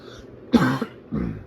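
Two harsh coughs from a man, close to the microphone, the first louder with a quick double burst and the second following after a short pause, in an otherwise quiet room.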